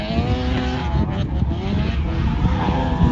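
Race car running on a track with tires squealing in understeer, engine roaring loud and steady throughout with a skidding screech layered on top.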